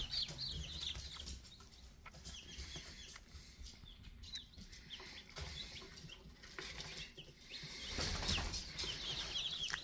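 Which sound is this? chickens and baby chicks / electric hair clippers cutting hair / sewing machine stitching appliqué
chickens and baby chicks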